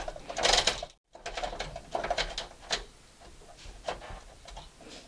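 Brother knitting machine running a punch card pattern, with repeated mechanical clacks and whirring carriage passes at close range, broken by one brief silent gap.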